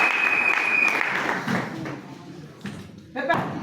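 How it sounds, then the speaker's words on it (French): A crowd applauds steadily, the clapping thinning out toward the end, with voices calling out over it. "Applaudissons rapidement"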